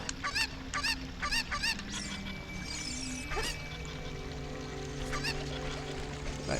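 Cucco chicken from the Legend of Zelda: Ocarina of Time, clucking in short repeated squawks amid game music and ambient game sounds, loud and close throughout.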